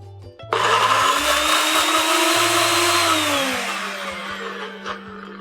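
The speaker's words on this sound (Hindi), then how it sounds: "अब हम ये लेते हैं प्याज का और काजू का मिक्सचर" A mixer grinder whirs loudly as it blends onion and cashew into a paste with a little water, starting abruptly and running steadily before the motor pitch gradually drops and fades at the end.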